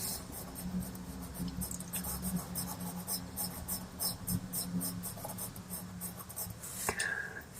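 Pastel pencil scratching across paper while adding white highlights on a drawing of an American robin beak, a close, continuous dry scraping with rhythmic strokes and no talking.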